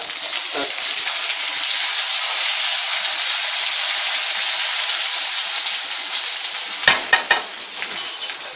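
Curry leaves dropped into hot oil in a pan for chicken kadai, giving a loud, steady frying sizzle that holds throughout, with a few clinks of stirring near the end.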